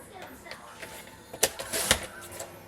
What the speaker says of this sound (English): we're going to take our trimmer out, and we need to cut 4 inches